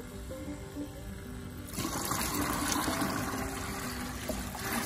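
A gallon of water pours and splashes steadily into a container, starting quietly and then becoming a louder, fuller rush partway through.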